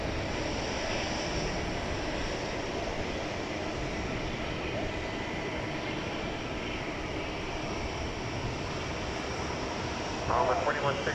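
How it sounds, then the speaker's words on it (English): A Super Cargo Master cargo aircraft approaching DFW Airport at night, a steady, moderately distant engine roar and rumble that holds evenly throughout, with a brief clatter near the end. "It's a Super Cargo Master coming our way from Wichita Falls, Texas."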